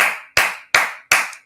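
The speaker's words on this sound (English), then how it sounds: "Let's clap for you." Four sharp, loud hand claps come in a slow, even rhythm, each ringing briefly before the next. No voices are heard.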